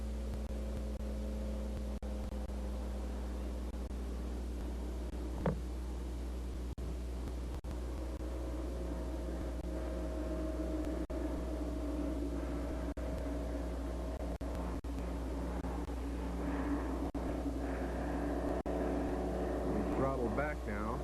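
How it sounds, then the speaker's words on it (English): Light aircraft engine during the climb-out of a first test flight, a steady low drone heard from inside the cabin, continuous throughout, with faint speech mixed under it. "Takeoff was after about 150 feet. We've got a good healthy climb out."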